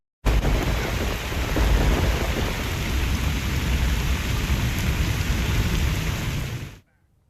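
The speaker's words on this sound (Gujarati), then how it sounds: "બીજી તરફ બોડેલીમાં પણ વરસાદે બગડાટી બોલાવી" Heavy monsoon rain pours steadily in Bodeli, Gujarat, a dense, loud, continuous roar with low rumbling like distant thunder, running unbroken for several seconds before cutting off abruptly.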